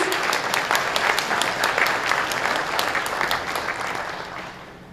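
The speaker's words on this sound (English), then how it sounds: "Could we kindly give MOFA a round of applause" A round of applause from guests at a spring banquet, dense and even clapping that holds steady before gradually fading toward the end.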